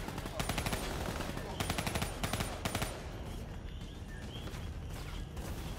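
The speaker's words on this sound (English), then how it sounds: "That machine gun is no joke." Rapid machine gun bursts from Call of Duty Black Ops 3 campaign gameplay, several loud rattling volleys in the first three seconds, then quieter game ambience.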